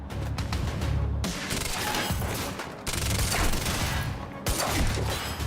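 Heavy gunfire in Quantum Break comes as dense, sustained volleys with short breaks between bursts, loud and close in a chaotic firefight.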